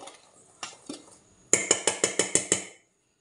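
A spoon stirs an overripe Robusta banana cake mixture in a bowl: soft scraping first, then about seven quick, evenly spaced metallic clinks against the bowl, close and clear with no voices.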